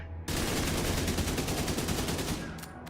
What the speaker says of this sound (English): here's the recoil of the AK initially